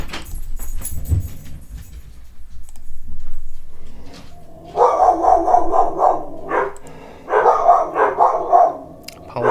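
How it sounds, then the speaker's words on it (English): Dogs barking indoors, bursts of repeated loud barks in two spells after a quieter stretch of rustling and clinks, fairly close. "Apologize for the dogs."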